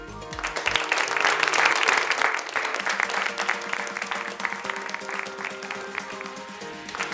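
Applause from an audience at a textile fair stage, a dense burst of clapping that peaks early then continues steadily at moderate volume from a crowd nearby, with no voice on top.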